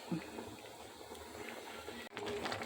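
A pot of jaggery and rice-dumpling mixture bubbling on a stove, a soft continuous simmer with small pops and a brief clatter near the end.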